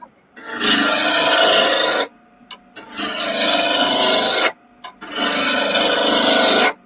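A roughing gouge cuts wood spinning on a lathe in three long, loud, steady rasping passes. Each pass lasts about a second and a half, with short pauses between them.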